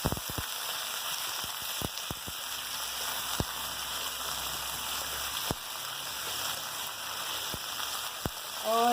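Washed mutton fries in oil in a pan, a steady close hiss of sizzling broken by sharp crackles and pops scattered throughout, with no voices.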